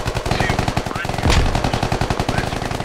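Sustained automatic gunfire in the SquadOps video game, rapid bursts fired into a window, loud and close with a heavier blast-like surge midway.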